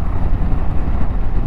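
Wind buffets a rider on a Benelli TRK 502 motorcycle fitted with a windscreen spoiler, producing a loud, close, turbulent low-frequency rumble that gusts unevenly throughout with no speech.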